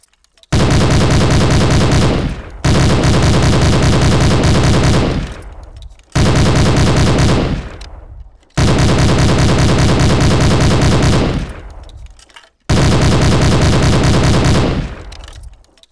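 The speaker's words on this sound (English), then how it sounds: "This is the Browning machine gun. It's a serious piece of hardware and deadly in combat." A Browning machine gun from the video game Hidden & Dangerous 2 fires five loud sustained bursts separated by short pauses, each burst cutting off with a fading echo.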